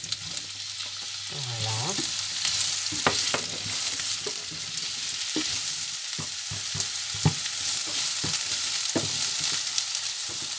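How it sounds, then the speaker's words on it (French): Chopped onions go into olive oil in a frying pan, giving a steady close sizzle with scattered stirring scrapes and clicks throughout; a brief word is spoken near the start. "On met un peu d'huile d'olive dans une poêle et on vient y ajouter nos oignons hachés."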